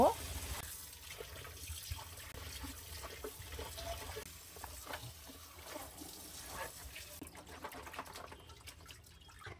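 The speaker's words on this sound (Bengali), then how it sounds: "মাছের মতো মাংসের রক্ত পানিটাও ক্লিন করে সামান্য গরম পানি দিয়ে ধুয়ে স্ট্রেনারে নিয়ে নিব" Meat being rinsed with a little warm water and drained into a strainer, a steady running-water wash at close range under faint background voices, ending in quieter trickling.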